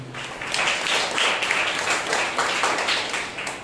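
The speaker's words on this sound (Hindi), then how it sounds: "इनके लिए जोरदार तालियां हो जाए" Applause from a church congregation during a Sunday morning service, a dense, steady wash of many hands clapping together for the full length, fairly loud and close with no clear talk over it.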